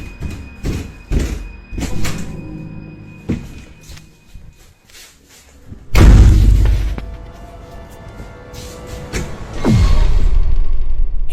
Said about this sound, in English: He wakes up to the sound of someone or something banging on his door.